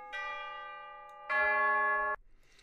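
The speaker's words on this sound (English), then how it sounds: "Pull chimes." Two struck orchestral chimes from a Pro Tools sample library ring out one after another, the first softer and the second louder and sustained before it cuts off sharply, with no voices.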